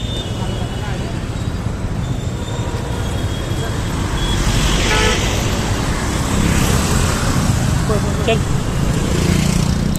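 Busy road traffic in Pune heard while crossing the street: a steady, loud roar of passing cars and motorbikes with engine rumble swelling midway, and voices talking over it.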